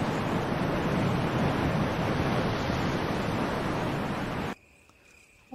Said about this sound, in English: You can hear the sound of the waterfall in the distance.